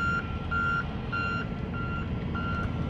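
A construction vehicle's reversing alarm beeps repeatedly in an even rhythm, five steady tones over a low rumbling engine, heard at moderate distance near the St. James Hotel in Cimarron, New Mexico.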